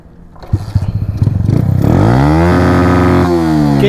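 A Honda Fan 125 motorcycle fitted with a CDI 1000 ignition module is started, its engine catching after a few quick kick pulses and settling into a loud, close, steady idle.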